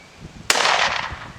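A single sharp rifle shot from a coyote hunter cracks loudly outdoors on a windy day, followed by a brief decaying rumble, with low wind noise underneath.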